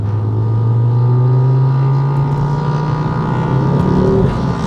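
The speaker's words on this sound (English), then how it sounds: "that's a noisy motorbike" A noisy motorbike passes nearby, a loud steady engine drone with a slowly rising pitch that holds for several seconds without fading.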